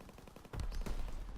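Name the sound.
gunshots in a WWII shooter video game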